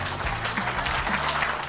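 Continuous applause from an audience, steady and moderately loud throughout with no clear pauses, dense clapping filling the whole stretch.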